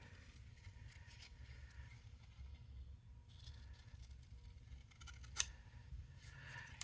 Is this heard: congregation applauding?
no